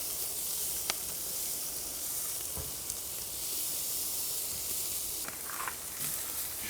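Large beef steaks laid straight onto a hot charcoal grill give a bright, continuous sizzle and hiss, heard close and alone with a few faint pops and crackles.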